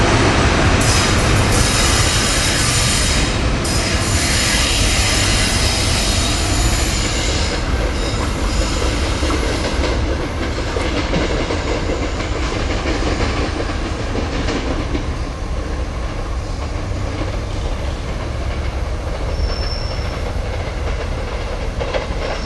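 A commuter train departs the station at rush hour, rumbling steadily past close by, wheels clacking and metal squealing, a continuous loud roar lasting throughout.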